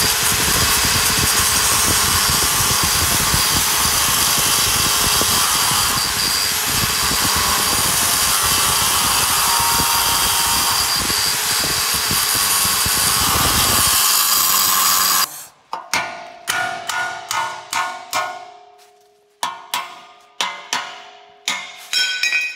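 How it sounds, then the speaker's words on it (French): A power tool cuts through the engine mount of an RCX LC motorcycle frame, grinding loudly and steadily for about fifteen seconds, then stopping and restarting in short bursts with quiet gaps. "on découpe le support moteur hein,"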